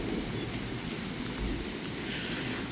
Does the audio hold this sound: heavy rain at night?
yes